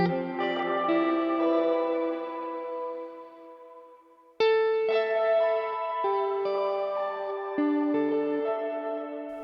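Guitar chords ring out through a plate reverb on a Quad Cortex, two strummed phrases each blooming into a long, smooth, lingering tail, clear and alone.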